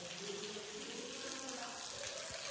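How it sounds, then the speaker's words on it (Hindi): Water runs steadily into a Sonalika 60 RX tractor tyre through a fitted valve, a continuous close hiss and gurgle with no talk over it. "लो भाई टायर में पानी भरने लग रहा है"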